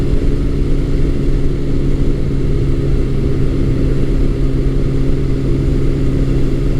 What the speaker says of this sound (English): Even though this bike has stock exhaust, it sounds really nice.